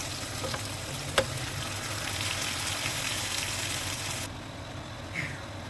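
Onions and tomato paste sizzle and fry steadily in a pan with boiled chicken broth added, with a sharp clink of a utensil early on.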